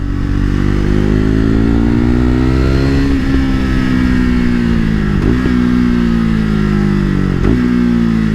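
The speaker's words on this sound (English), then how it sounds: "Oh yeah, downshift sound really good" A KTM RC390 motorcycle with a Yoshimura Alpha-T slip-on exhaust roars steadily up close, with a few quick downshift blips and pops as the revs drop and rise.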